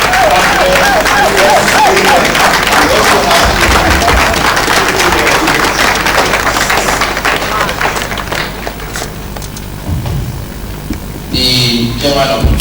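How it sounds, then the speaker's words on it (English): A large audience at a formal access-to-justice event applauds a speaker being introduced: loud, dense, sustained crowd clapping that thins toward the end, with some voices faintly under it. "A big round of applause for Dr. Luis"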